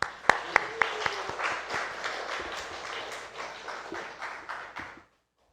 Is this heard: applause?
yes